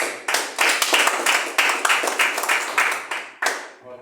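A church congregation claps loudly to welcome a preacher, sharp bursts of clapping coming in quick uneven waves that swell and fade, then cut off near the end.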